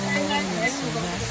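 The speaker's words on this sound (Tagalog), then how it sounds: "Tignan nga lang natin uli yung Daranac Falls." Steady rush of Daranak Falls, a waterfall running with a thin flow, fills the whole stretch as broadband noise with a voice talking over it.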